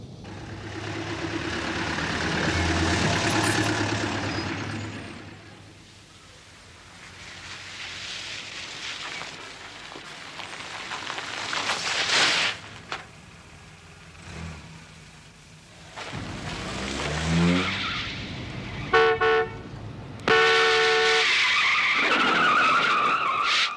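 A car drives with engine roar rising and falling and tyres skidding, loud and near, with passing swells and sharp squeals in a 1970s television drama.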